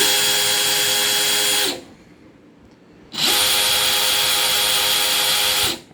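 A DeWalt DCK283D2 20V MAX XR cordless drill with a steel chuck runs at full speed with a loud, steady whine, stops for about a second, then runs again before cutting off.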